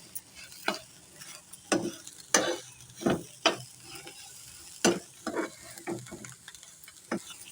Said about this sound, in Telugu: చక్కగా అన్నీ కలిసేలాగా మనము అటు ఇటు తిప్పుకుంటూ కలుపుకున్నాము